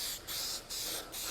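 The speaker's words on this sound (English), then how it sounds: "So just always remember to spray in" Cleaner is sprayed onto a canvas cloth convertible top in three quick bursts, each a loud, hissing spray close by with brief pauses between.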